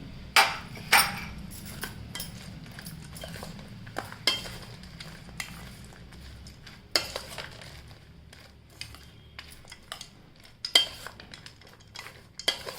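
Chaat is mixed with chilli powder, salt and gram flour, giving repeated sharp clinks and scrapes of a spoon against a bowl in an uneven rhythm, close and fairly quiet, with no talk.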